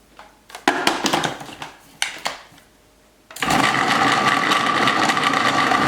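A kitchen blender fitted with a dough attachment mixes shortbread dough: a few short stop-start pulses at first, then a loud continuous motor whir that runs steadily to the end.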